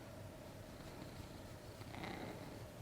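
Mr. Max, a pet cat, purrs softly and steadily close by, a low continuous rumble that swells slightly near the end, with no talking over it.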